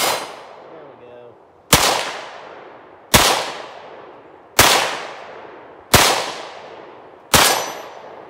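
Five loud, sharp pistol shots fired outdoors from an FN FiveseveN, evenly spaced about a second and a half apart, each with a ringing decaying tail, preceded by faint handling noise.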